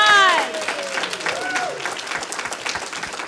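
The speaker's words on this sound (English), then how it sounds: "So give them a round of applause." Audience applause fills a hall after a student recitation performance of Prometheus Bound, a dense burst of clapping that starts loud and stays steady, with a few voices and cheers mixed in at the start.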